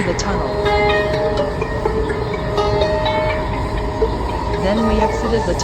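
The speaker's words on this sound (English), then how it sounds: "The train speeds into the tunnel." A metro train speeding into a tunnel, its loud, steady rumble and rattling wheel noise filling the car with a continuous roar and faint squealing tones.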